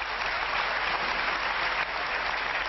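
Audience applause in a Hungarian evening TV comedy show studio, steady dense clapping from a large crowd, loud and continuous without a break.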